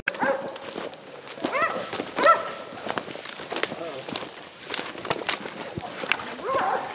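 Hunting dogs barking at a boar hog in the brush, repeated sharp barks and yelps scattered across the scene at moderate distance, with people talking and calling out amid the commotion.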